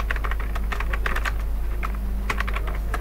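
Someone types a name on a computer keyboard in quick, uneven bursts of close key clicks with short pauses between them, over a low steady hum.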